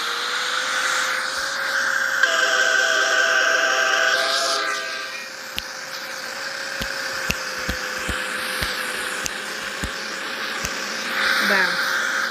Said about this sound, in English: Maybe a local train.